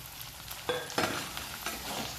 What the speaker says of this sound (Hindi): देखिए प्याज फ्राई हो गए